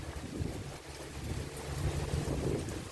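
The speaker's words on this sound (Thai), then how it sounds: "ลมแรงมาก พัดของกระจุยกระจายหมด" Strong wind roars steadily with a broad, rushing hiss and low rumbling buffets, continuous and fairly loud.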